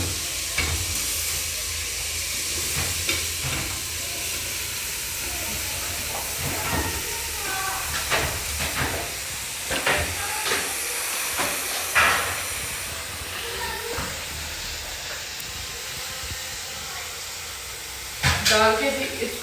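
Vegetables tossed into fried masala sizzle steadily in a pan while being stirred, with scattered scraping clinks and knocks of the spoon, close and fairly loud, and a sharper cluster of clatter near the end.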